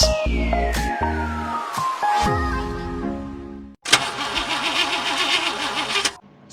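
In a radio advertisement for an auto body and mechanic shop, a car engine cranks and struggles with descending whines and clunks, then after a brief gap catches and runs loudly with a rough, wavering idle.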